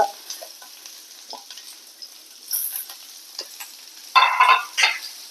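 Onion being stir-fried in a pan for Kerala coconut chammanthi: a soft, scattered crackle and sizzle with gentle scraping stirs, rising to louder bursts near the end, no voices.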